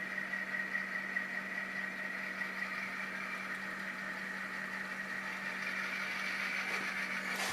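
A Proto 2000 BL2 model diesel locomotive runs on a Tsunami sound decoder, giving a steady idling engine drone with a constant low hum, moderately loud and alone without talk.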